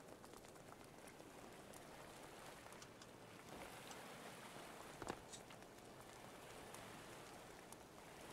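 Steady rain in the Stormworks game falls at sea on choppy water, a soft continuous patter with a faint brief knock midway and no one talking.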